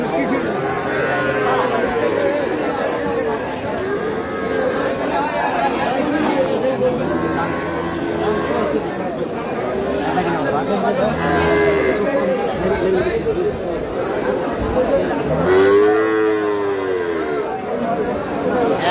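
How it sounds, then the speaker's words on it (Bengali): Cattle moo at a busy livestock market, several low drawn-out calls rising over a constant crowd babble, with people talking nearby throughout. "বড় গরু।"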